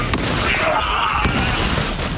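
A gun fires rapidly in the looter-shooter game Borderlands 3, with a dense, continuous burst of loud shots and booms amid combat noise throughout the short moment.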